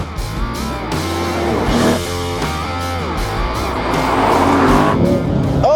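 A Chevy Corvette Stingray and a Toyota GR Supra launch in a rolling-start drag race, engines roaring loudly and climbing through gear changes with some tire noise, close and intense throughout.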